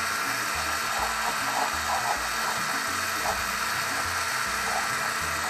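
A blender runs continuously on hot broccoli and spinach soup, a steady dense whirring churn held at an even, fairly loud level throughout with no talking.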